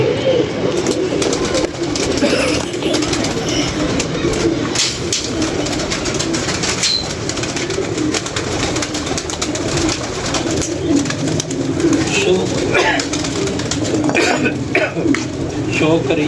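Pigeons from a Lahore breeder's loft coo in a steady, continuous murmur, with scattered clinks and shuffles and a voice talking over the top throughout.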